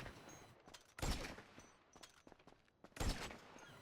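Gunfire in a PvP match of the GTA video game on PlayStation 5: two loud, sharp bursts about two seconds apart stand out over a busy background of softer game noise, with no talk.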